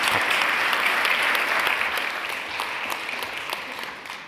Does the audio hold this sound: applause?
yes